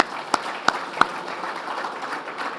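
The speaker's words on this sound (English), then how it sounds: "Just round of applause" Keynote audience at an energy summit giving a round of applause: a soft continuous patter of clapping with three sharper, louder claps standing out near the start, then an even murmur of hands.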